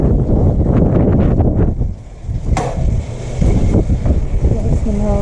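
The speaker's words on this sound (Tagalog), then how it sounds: "Lakas ng hangin, guys." Strong wind gusting at Tuy, Batangas, a loud, rough roar buffeting the microphone without pause, easing briefly midway before surging again, with voices talking faintly underneath.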